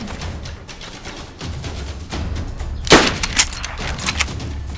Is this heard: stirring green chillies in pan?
no